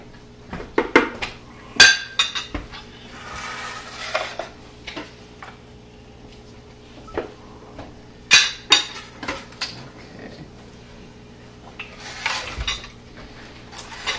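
Peanut butter pie filling is mixed with sugar and vanilla in a bowl, giving scattered clinks and scrapes of a utensil against the dish, with bursts of several quick knocks separated by quieter pauses.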